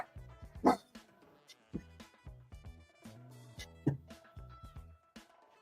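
A dog barks at someone out front, a string of sharp, fairly close barks and yips mixed with brief whimpers across a few seconds.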